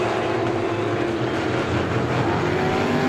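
Stock car race engines make a loud, unbroken roar from a pack of cars circling the track, steady and dense for about three seconds with no voices.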